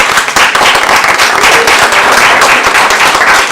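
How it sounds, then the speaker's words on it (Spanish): An audience at a lecture on independent candidacies gives a loud, dense round of applause: continuous clapping from many hands that holds steady throughout. "Y a quien también les pido que le den un fuerte aplauso."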